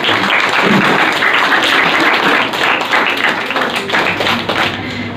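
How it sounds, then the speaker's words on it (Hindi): An audience at a school writers' workshop in Patiala claps steadily, with dense, sustained applause from a crowd that stays loud throughout and then tapers slightly near the end. "अपने लिए एक बार तालियां लगा दीजिए"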